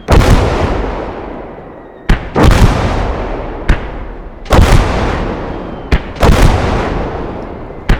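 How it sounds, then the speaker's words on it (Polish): Repeated heavy booms of artillery fire and explosions in the video game Call to Arms: Gates of Hell Ostfront, each sharp blast followed by a long rumbling decay, about six in eight seconds, loud and close. "O, leci. Strzelają. Zobaczymy jak to wybuchnie."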